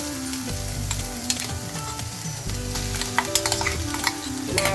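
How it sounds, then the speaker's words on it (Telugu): Amaranth leaves frying in hot oil as they are stirred in a pan, a close soft sizzle broken by repeated clinks and scrapes of the utensil, with no voices. "నూనె వేడైన తర్వాత తోటకూర వేసుకుని వేగించుకుంటూ ఉండాలి."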